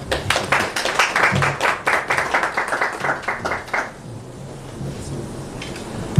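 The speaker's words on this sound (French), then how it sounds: "On accueille l'ambassadeur, on applaudit s'il vous plaît." Close, rhythmic clapping from a small audience welcoming an ambassador at a press conference, a burst of distinct hand claps for about four seconds that then stops, leaving quiet room noise.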